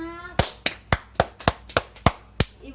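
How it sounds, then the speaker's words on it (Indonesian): Children in a classroom clap together in a steady rhythm, about eight sharp, loud claps at even intervals with no talking over them. "Ayo tepuk tangan anak-anak."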